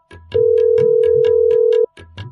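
A phone ringback tone during a call in the video game Indian Bikes Driving 3D: a long, loud steady electronic tone that cuts off sharply, set over a repeating rhythmic beat in the background.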